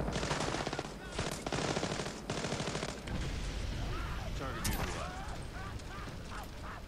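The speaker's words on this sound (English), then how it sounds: "Incendiary grenade." An incendiary grenade goes off in the Splinter Cell Blacklist video game, heard as dense, rapid crackling bursts with gunfire-like popping and voices underneath, loud at first and then settling into a rougher burning texture.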